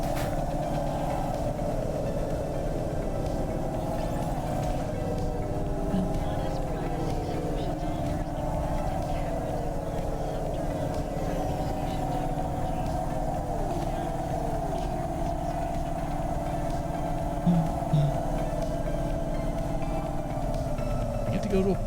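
City traffic in the video game Cloudpunk: layered droning hover-vehicle engines hum steadily with shifting pitched whines passing by, continuous and fairly loud, while a voice talks over it.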